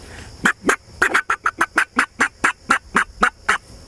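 A person mimics a turkey gobble using only the mouth, a quick run of about fourteen loud, evenly spaced clucking bursts, close and unaccompanied by talk.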